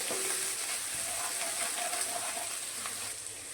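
Chopped chilli, grated ginger and garlic sautéing in a pan for dal khakhara, giving a steady close sizzle and fry hiss that holds evenly throughout with no talk.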